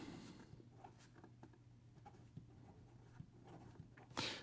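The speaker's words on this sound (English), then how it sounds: "Here we go with the writing sample for the Leonardo" Ebonite Leonardo Momento Zero Grande fountain pen writing on paper, a faint close scratching with soft irregular strokes and taps in a quiet room, ending in a brief louder rustle.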